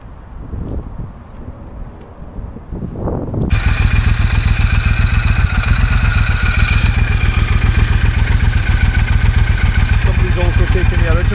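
Triumph Thunderbird 1600 motorcycle starts up and settles into a steady, loud, close idle with an even throbbing pulse, wind buffeting the microphone throughout.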